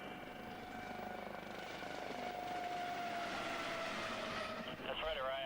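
Helicopter flying off the coast of Florida, heard from on board as a loud steady rotor and engine drone with a sustained whine throughout; a voice speaks over it.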